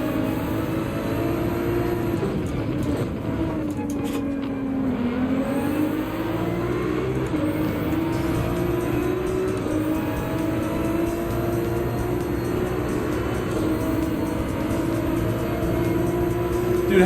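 Nissan GT-R race car in Gran Turismo 7 during a wet manufacturers cup race at Dragon Trail Gardens, its engine note rising and dipping through hard acceleration and shifts, loud and continuous alongside other cars.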